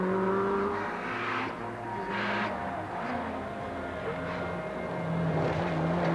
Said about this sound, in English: Shaker Mater's Nissan goes by on a Sunday evening